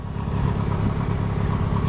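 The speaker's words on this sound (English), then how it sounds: "that tractor's running" A Craftsman GT6000 garden tractor engine runs steadily during a nor'easter snowstorm, a continuous mid-pitched rumble with a pulsing chug, fairly close and unbroken throughout.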